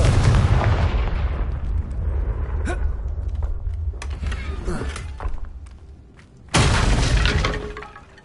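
Confringo fiery spell explosion in Hogwarts Legacy, a loud booming blast with shattering debris that rumbles and fades, then a second loud burst erupts before the end.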